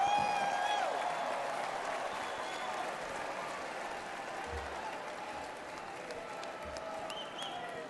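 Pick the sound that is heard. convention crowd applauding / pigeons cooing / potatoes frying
convention crowd applauding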